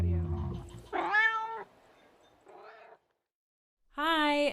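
A cat meows three times as a podcast audio logo: a long rising meow, a shorter faint one, then a final clear meow after a brief silence, close and prominent.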